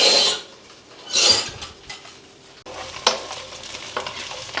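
About 300 grams of sliced okra shallow-fries in a pan for a prawn pulusu, with bursts of sizzling and close clinks and scrapes of a spatula stirring through the pieces.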